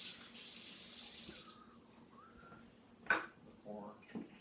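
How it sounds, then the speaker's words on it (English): Tap water runs into a sink for a rinse while making an Aviation cocktail, a steady broad rush that stops after about a second and a half, followed by faint clinks and handling sounds. "I give this a rinse."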